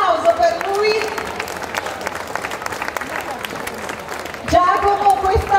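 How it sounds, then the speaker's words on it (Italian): An audience at a Notte Rosa evening event in Foligno applauds, a lively crowd clapping under a speaking voice, with the talk rising louder again near the end. "Prego, un applauso per lui."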